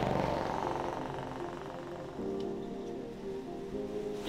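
Steady rain falls on surfaces during a relief mission in Mamuju, Sulawesi, a continuous hiss with a low engine rumble underneath and no voices.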